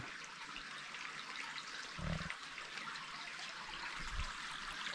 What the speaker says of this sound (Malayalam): ഈ വെള്ളം അങ്ങനെ ഒഴുകിപ്പോവും